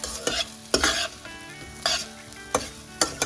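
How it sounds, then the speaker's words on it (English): Poha frying in a pan on low heat while being stirred continuously, a steady sizzle broken by repeated scraping strokes of the spoon against the pan, close and clear with no talk. "Keep stirring them continuously because they are very quick to cook."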